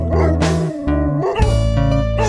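A dog barks loudly and close, a series of several yips and bow-wow barks with whimpering, pitch-bending tones between them, and no talking.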